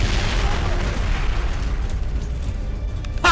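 Rocket launcher blast in the video game Turok, a loud rumbling explosion that fills the clip and slowly decays, with a heavy low roar and crackling debris.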